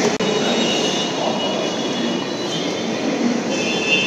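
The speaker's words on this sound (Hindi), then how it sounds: "देखो मेट्रो आ गया।" A metro train arriving at a station in Delhi gives a steady, loud broadband rumble with a faint high whine on top, sustained and close, with no talking.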